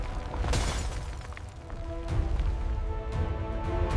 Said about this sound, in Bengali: কাঁচ ভাঙার শব্দে পাহাড় কাঁপল